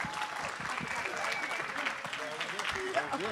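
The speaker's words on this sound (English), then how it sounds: "Clap one more time, because they're with us." Audience clapping at the close of a session on hip hop and Black liberation, a continuous wash of applause from a seated crowd, with voices mixed in underneath.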